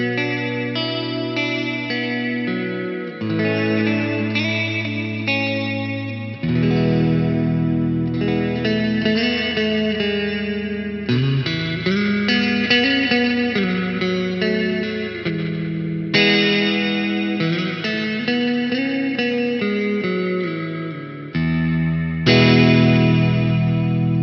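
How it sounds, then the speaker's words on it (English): Electric guitar runs through a reverb pedal that produces delay and echo artifacts, giving sustained chords a shimmering, chorus-like wash with distortion, played in several phrases without any voice. "It has a lot of kind of delay artifacts and echo artifacts in it."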